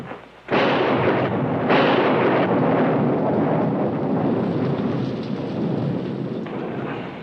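A heavy thunderstorm roars continuously, with a loud rumbling thunderclap breaking in early and sustained rain and rolling thunder filling the rest, no voices over it.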